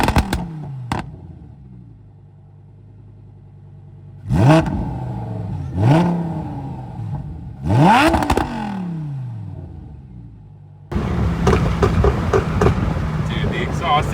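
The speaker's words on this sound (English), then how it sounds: "the exhaust is so nuts!" Lamborghini Huracan Evo exhaust blipping through several sharp revs, each a rising snarl that falls away, with crackles in between; the idle continues, then a louder, rougher engine drone sets in near the end.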